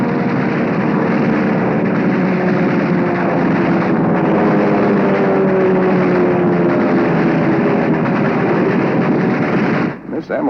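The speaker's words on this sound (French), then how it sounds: "C'est un avion Kawanishi de 20 tonnes" A World War II Kawanishi four-engine, 20-ton aircraft known as Emily drones steadily in flight, a loud, dense engine roar with a humming tonal undertone that holds for about ten seconds before cutting off abruptly.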